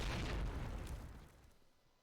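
Grenade blowing up in Call of Duty 2, a single loud, close blast that hits hard and then rumbles away into a fading tail over about two seconds.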